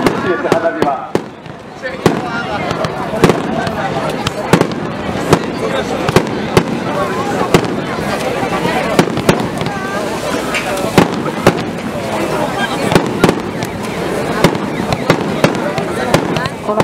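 Fireworks burst in rapid succession at a summer festival fireworks show, a steady barrage of sharp pops and booms over a murmuring crowd, with people talking throughout.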